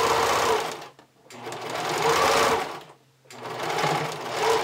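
Elastic is stitched along a bikini top's stitching line by a sewing machine, its close, loud whirring coming in three sustained runs with brief pauses between them.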